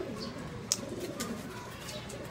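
Young racing pigeons cooing steadily inside a flyers' loft, soft low murmuring throughout with a brief sharper sound near the start, no talking.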